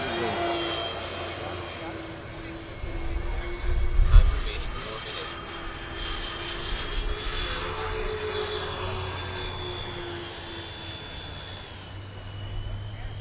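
An FMS F7F Tigercat 1700mm RC model airplane flies overhead on its maiden flight. Its steady, whining engine drone swells and fades as it passes, with voices faintly in the background.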